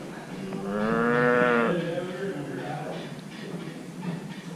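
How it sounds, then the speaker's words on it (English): Cows on a farm give a loud, drawn-out moo up close. A few softer lows follow against a quiet outdoor background. "Little cows!"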